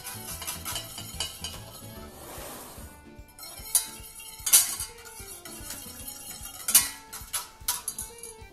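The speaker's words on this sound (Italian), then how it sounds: "E frustiamo bene." Steady metallic scraping as cream with soaked gelatin is whisked in a pan for a mirror glaze, with occasional sharp clinks of the whisk against the side.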